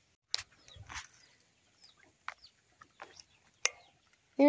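Barred Rock chickens in a rooster coop give soft, scattered clucks and short calls, faint and sparse against a quiet background.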